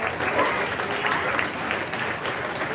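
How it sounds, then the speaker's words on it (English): Sustained audience applause at a junior fair swine show championship ring, dense and steady clapping from a crowd throughout, fairly loud with no break. "Let's give these kids a big round of applause for all our divisions."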